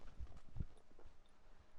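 Horse hooves thudding on a dirt road during small spins in a training ride, a few low scuffing clip-clops near the start amid quiet outdoor background.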